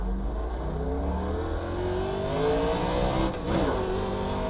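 A NASCAR Legends race car lapping Charlotte in the iRacing sim, its engine droning loud and steady with rising and falling pitch through shifts, with no talk.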